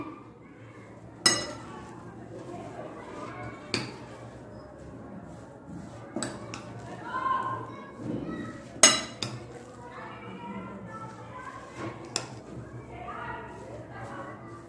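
Samosa chaat mixture with salt and crushed chilies is stirred in a bowl, with scattered clinks of spoon on dish and soft scraping through a steady low hum, close by.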